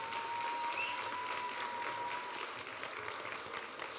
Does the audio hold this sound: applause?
yes